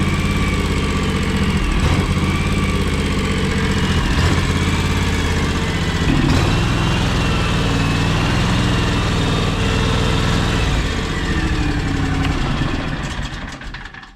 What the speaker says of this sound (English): How it's like missing when it idles?